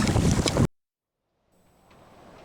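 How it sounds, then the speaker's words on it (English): Loud wind buffets the microphone in a roaring gust outdoors on a kayak journey through the Inside Passage, then cuts to silence before a faint breezy rush slowly returns. "it's a little windy out here."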